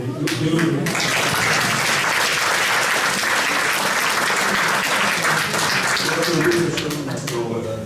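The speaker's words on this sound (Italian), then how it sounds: "Per cui credo che oltre che un applauso" Audience applause at a social convention, a loud, full round of clapping from a crowd that starts abruptly, holds steady and tapers slightly at the end.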